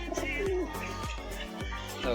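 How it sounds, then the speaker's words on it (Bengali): A black-green gaming pigeon coos close by in repeated low throaty phrases, roughly every half second, with faint other birds chirping behind. "কালা সবুজ পায়রা কালা সবুজ দেখো"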